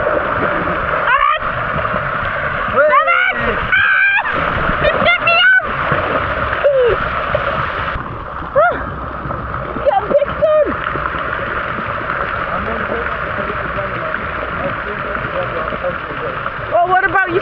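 Water splashing and churning under a waterfall at Blizzard Beach water park, a steady wash of spray with voices of adults and someone talking and calling over it.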